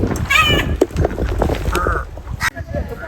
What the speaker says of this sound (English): Got a crow.